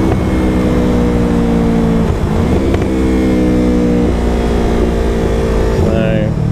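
A Yamaha R3 sport motorcycle with an aftermarket exhaust being thrashed, its loud, steady engine drone rising and dropping in pitch through several gear changes, heard close and continuous.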